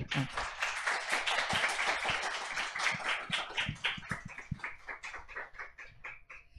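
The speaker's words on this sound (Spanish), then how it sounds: "Les pido por favor un aplauso para el doctor." Audience at a statistical learning seminar applauds the invited doctor, a dense burst of close hand claps that thins out toward the end into scattered individual claps.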